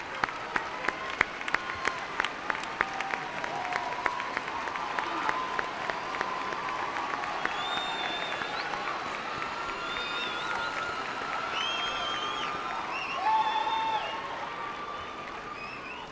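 Commencement audience of families at a Sam Houston State University fall graduation breaks into sustained applause, a dense crowd of clapping with some cheering, steady and full throughout and tapering slightly near the end.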